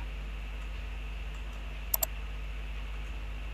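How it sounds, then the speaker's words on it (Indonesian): A computer keyboard key is pressed, giving two quick, faint clicks in a quiet room with a low steady hum beneath. "nah ini tombol keyboard sedang ditekan"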